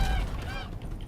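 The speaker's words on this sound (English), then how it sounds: "I know those aren't pigs, those are geese." Geese honk in the Witcher 3 game world, several calls overlapping loudly and continuously against a dense background of ambient game sound, with no speech.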